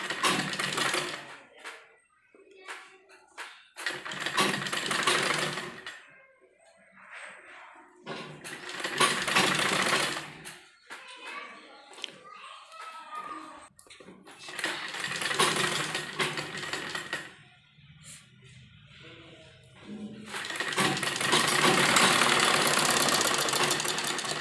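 Sewing machine stitching a frill onto a kurti sleeve, several bursts of rapid mechanical clatter lasting a few seconds each, separated by quieter pauses with fabric handling sounds.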